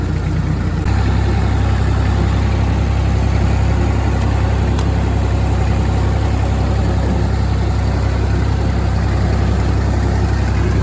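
A Massey Ferguson MF 50 diesel tractor clearing an overgrown field with an old 5-foot Hardee rotary cutter in low-range third gear; a steady, loud, close engine drone with a deep low hum runs throughout without speech.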